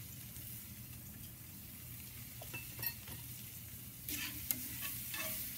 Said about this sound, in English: Get that sauteing. You want to cook it till the onions are about translucent.